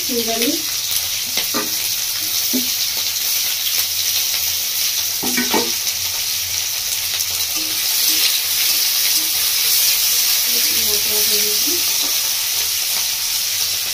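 Cut cauliflower hits a hot pan of oil and sizzles in a steady, close frying hiss, with a few soft stirring clatters along the way.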